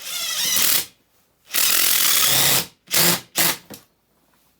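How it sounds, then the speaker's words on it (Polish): A power drill fitted with a DeWalt angle adapter drives a 70 mm screw into wood from the side. It comes in four loud whirring bursts: two longer runs followed by two short pulses, with pauses between. "damy wkręta 70 mm. Spróbujemy skręcić coś od boku"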